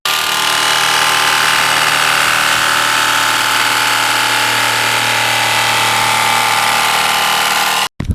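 A power saw cuts plexiglass, running steadily for several seconds, a loud motor whine with a gritty cutting rasp, close by, then cuts off abruptly.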